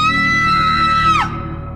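A woman's loud, shrill, sustained scream in a horror story holds a high pitch, then breaks off with a sharp downward slide and fades into a quieter background drone.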